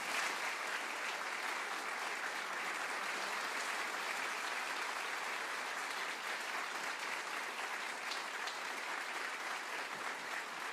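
A studio audience at a WoodSongs live taping claps steadily in sustained applause for about ten seconds, dense and even throughout with no voices standing out.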